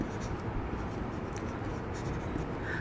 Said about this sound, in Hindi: मैं लिख देता हूँ थोड़ा सा